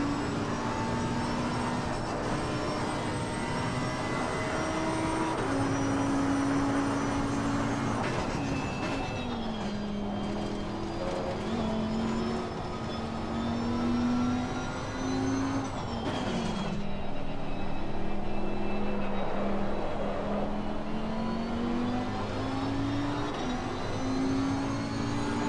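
A race car engine lapping a circuit in the racing game Assetto Corsa Competizione, a sustained droning whine that climbs and drops through gear changes, steady and continuous with no talk.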